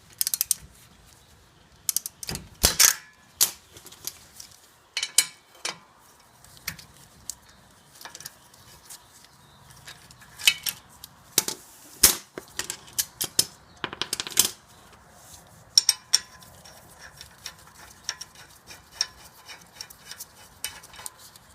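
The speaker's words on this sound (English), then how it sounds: "you're going to remove this Torx bolt from the rotor" A T50 Torx retaining bolt comes out of a 2004 Porsche Cayenne rear brake rotor with scattered clicks of a ratchet and metal tool taps, in irregular bursts over a quiet background.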